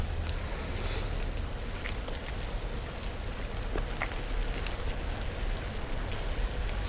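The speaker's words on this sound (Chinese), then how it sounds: "其实雨还在下啊，只不过是比刚刚稍微小了一些。" Steady rain falls outdoors while cycling in Hong Kong, a dense, even hiss with occasional sharper drop taps, constant and fairly close, without speech.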